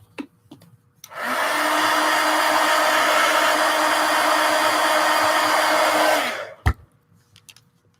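A hair dryer blows on wet paint on a collage, switching on with a loud steady whoosh that holds evenly for about five seconds before cutting off, followed by a sharp knock.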